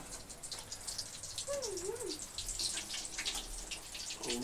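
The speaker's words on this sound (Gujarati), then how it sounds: "વરસાદના ચોમાસા તો વરસાદ બાદ ઝરમર ચાલુ છે" Light monsoon drizzle after a rain shower patters and drips steadily throughout, a soft, continuous outdoor wash of droplets with a brief high whistling tone partway through.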